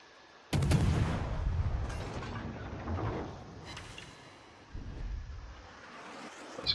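Naval gunfire from Kleber guns in the World of Warships video game: a sharp, heavy boom at the start rolls out into a long rumbling tail, followed by lighter distant thuds and a softer later blast.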